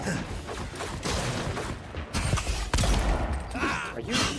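Gunfire in the video game Avowed: scattered shots and impacts, the sharpest cracks near the middle, over a dense bed of game noise with voices mixed in.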